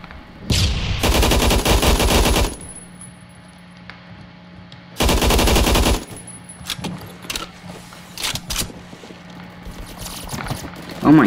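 AUG HBAR light machine gun in the Phantom Forces video game, firing two loud, close, rapid sustained bursts with a pause between, followed by sparser shots and clatter.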